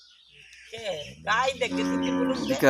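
A small calf moos several times at close range, a drawn-out nasal call rising after a brief quiet start and continuing to the end, recorded outdoors in a village setting.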